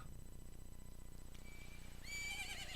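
A horse neighs in the video game Majora's Mask at dawn, a short whinny rising near the end after a quiet stretch of low ambient game hum.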